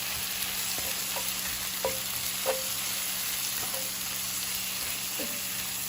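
Seasoned food sizzles in a pan while it is stirred, a steady frying hiss with several light clinks and scrapes from the spoon at irregular intervals, close by and without speech.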